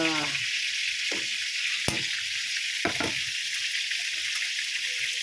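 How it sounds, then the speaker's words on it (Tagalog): Steady bubbling and hissing of a pot of leafy vegetables and sponge gourd boiling, continuous and close, with a couple of brief clinks and stirring sounds. "kumukulo na ang gulay ko na maraming dahon"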